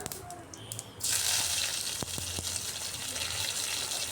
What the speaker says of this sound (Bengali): জিরে আর শস্য ভাজা ভাজা হয়ে যাওয়ার পর দিয়ে দিচ্ছি কারি পাতা